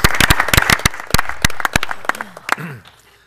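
An audience applauds county staff and employees at a Cabarrus County commissioners meeting. The clapping is loud and scattered at first, then thins and fades, and a voice rises at the very end.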